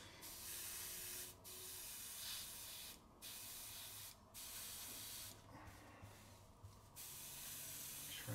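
An aerosol can of chipping fluid hisses in several long bursts of spraying onto a gloss surface, separated by brief pauses, close and steady with faint background hum.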